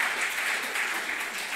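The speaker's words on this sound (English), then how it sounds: "I think that deserves a round of applause" A church congregation at an annual meeting gives a brief round of applause, a steady wash of many hands clapping without a break, moderately distant.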